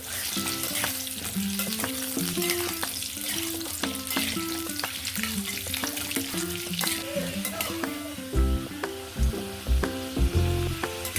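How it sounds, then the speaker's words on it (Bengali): Potatoes sizzle and crackle in hot oil with a spoon of ghee, a continuous frying hiss with occasional clinks of stirring; no voices. "এবার আলুগুলো খুব ভালোভাবে ভেজে তুলে নেব"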